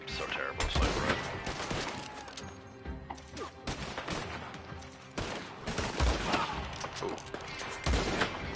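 Sniper rifle shots in the video game Red Dead Online: a few heavy, booming reports spread across a busy, noisy game mix, with some voices faintly underneath.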